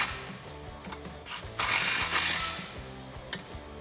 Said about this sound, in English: now we can tighten down this clamp with our 15 socket